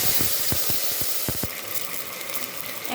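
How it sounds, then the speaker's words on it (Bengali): Fried onions sizzle in a pan for a winter vegetable dal, with a few sharp crackles and spits as a splash of water goes in, then a steady hiss that carries on close and fairly loud. "পেঁয়াজটা হালকা ভাজা হয়ে গেছে, এখন আমি দিয়ে দেবো সামান্য পানি।"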